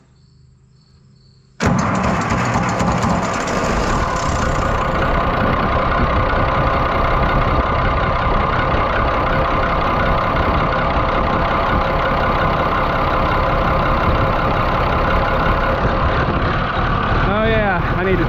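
An Oliver 1750 tractor diesel engine starts abruptly after a quiet moment, then idles loud and steady close by with a constant rumbling drone.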